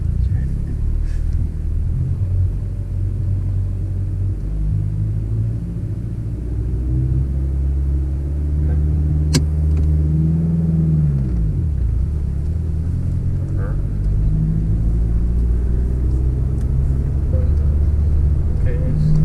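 A manual-transmission car's engine drones steadily, loud and close, with a low rumble that shifts pitch as it pulls away in gear while a driver learns; voices speak over it.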